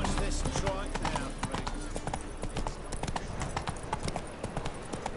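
Roach, the horse in The Witcher video game, clip-clops with steady, close hoofbeats while voices talk over the top.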